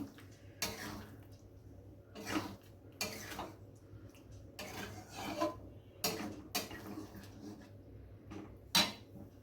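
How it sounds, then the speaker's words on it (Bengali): A spatula scrapes and stirs cubed paneer through a spice masala in a pan, giving repeated rasping strokes in bursts with short pauses between them, moderately close and with no talking. "পনিরটা ভালোভাবে মশলার সাথে আবার মিশিয়ে নিচ্ছি।"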